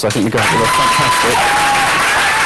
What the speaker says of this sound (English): if we could, just do a huge round of applause.